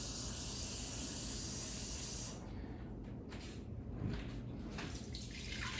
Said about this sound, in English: Then you're going to add 1 cup of water.